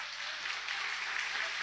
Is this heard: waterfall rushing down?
no